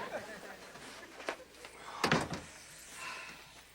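A door is shut in a 1986 sitcom scene, a short solid thud in the middle that stands out above low room noise, with brief talk nearby.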